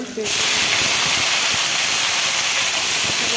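Greens hit hot oil flavored with garlic and dried chili and burst into a loud, sustained sizzle, a dense close hiss that holds steady after a brief quieter moment, with no talking over it.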